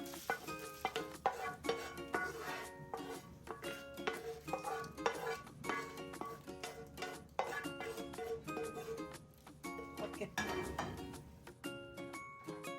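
Fried country chicken for Mangalore-style sukka is moved from a pan onto a plate, with repeated metallic clinks, scrapes and knocks of a utensil against cookware in a busy, uneven rhythm.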